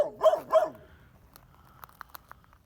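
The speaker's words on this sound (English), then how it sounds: "That dog isn't going to cross." A dog barks twice, loud and close, beside a prickly pear cactus fence line, followed by fainter scattered clicks and rustles.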